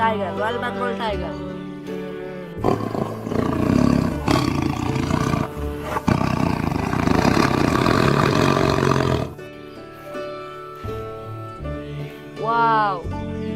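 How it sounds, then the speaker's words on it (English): Royal Bengal tiger at a zoo giving deep, loud roars and growls that surge and fade over several seconds, with a voice and music-like tones before and after. "this is tiger, Royal Bengal tiger."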